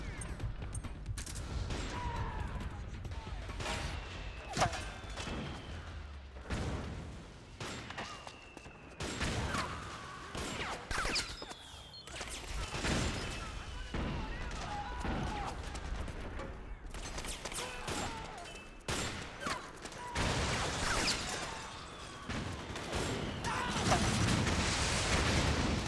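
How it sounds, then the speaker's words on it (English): Explosions and gunfire in the video game Metal Gear Solid 4 rattle almost nonstop, with dense bursts of shots and repeated booms crowding together at fairly low level throughout. "So many goddamn explosions are going off."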